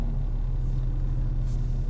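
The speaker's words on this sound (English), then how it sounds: "ignore the noise. I'm around with a bunch of cars." Several cars idle and pass close by in a steady low rumble, with engine noise continuous and fairly loud throughout.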